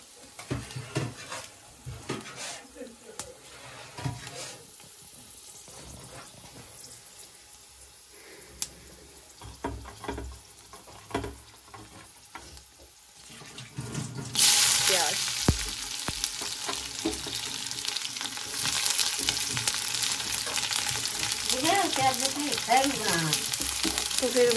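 Coriander and chili hit hot oil in a village kitchen pan, a loud, bright sizzle bursting in midway and holding steady, after a quieter stretch of faint clatter, with a voice briefly over it.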